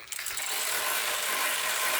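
A ratchet socket wrench tightens a bolt on a Chevy truck during a diesel swap, giving a steady, fast, close-up metallic clicking that runs without a break and with no talk over it.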